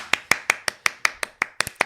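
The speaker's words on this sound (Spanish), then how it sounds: "Yo voy a aplaudir." One person claps slowly and steadily, about ten crisp, close, evenly spaced claps with no talk over them.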